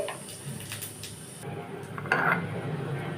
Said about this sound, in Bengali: পাঁচফোড়নটা নেড়ে নেওয়া হয়ে গেছে।